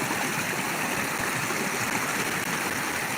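A small stream of water flows steadily beside terraced rice fields, a continuous broadband rush and trickle with no voices over it.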